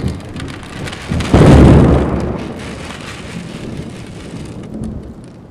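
Heavy rain pours steadily on a surface while a loud, close thunderclap booms and rolls away during a severe storm, with the rain hissing on alone afterward.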